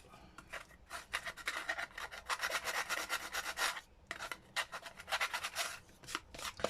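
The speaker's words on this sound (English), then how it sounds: "Need to sand that." Rapid scratchy sanding strokes on paper ephemera for a junk journal, steady back-and-forth rasping in close, loud bursts with short pauses between, no speech.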